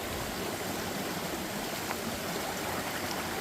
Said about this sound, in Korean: 산에 와서 보니 계곡물이 이렇게 절절 흐르고 있군요